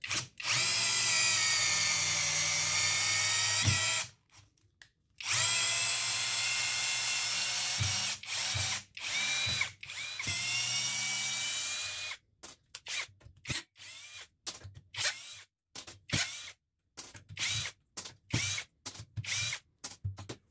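A compact cordless drill-driver runs screws into very dry wood. Long, loud whining bursts of the motor are separated by short pauses, then give way to rapid, choppy stop-start pulses.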